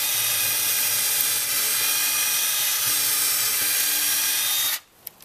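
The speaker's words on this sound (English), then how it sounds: "So I'll just finish pre-drilling outside." A power drill pre-drills a hole outdoors for a raised lettuce bed irrigation timer, whining at a steady high pitch for several seconds before stopping abruptly, followed by a couple of small clicks.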